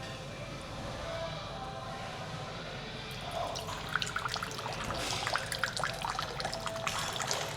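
Moroccan tea is poured into a cup, starting as a faint trickle and turning into a brighter, splashing stream of liquid, with quiet room noise underneath.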